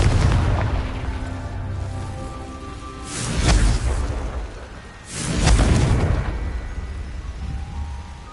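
Two booming Confringo spell explosions from the Hogwarts Legacy video game, each a broad rumbling blast about two seconds apart, set over a steady low drone of game ambience and music.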